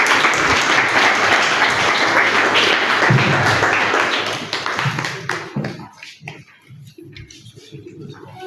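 An audience at a French-language reading and literature event claps, dense, loud applause for about five seconds that thins into scattered claps and fades toward the end.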